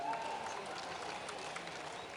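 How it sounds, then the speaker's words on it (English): Crowd applause as judges are introduced to the stage at the Golden Shears ladies shearing final, a brief, fairly distant wash of clapping with some crowd noise. "Give our judges a big round of applause, ladies and gentlemen"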